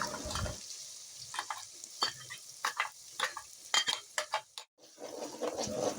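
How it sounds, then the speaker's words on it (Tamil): Ground onion masala frying in a pan for mutton gravy, stirred with a spoon in repeated scraping strokes over a soft sizzle, close and without speech. "கிண்டி விட்டா வெங்காய மசாலா நல்லா வேகும்"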